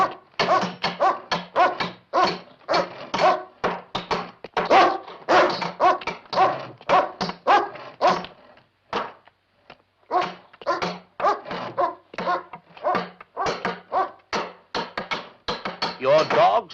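A dog barks repeatedly and loudly at close range in a 1972 horror film scene, with rapid bursts and a few short pauses, some whimpering mixed in, and faint voices beneath.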